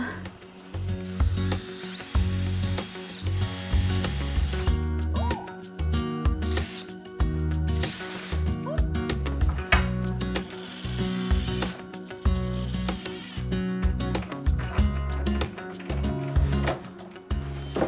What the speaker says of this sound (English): This is the largest drill bit I've ever used